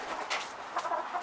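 Farm chickens cluck in a few short, quiet bursts, faint and somewhat distant, with no voices present.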